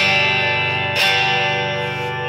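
A sustained distorted electric guitar chord from a Squier Telecaster rings through an amp, then a second strummed chord rings out, thick and loud, with no added effects.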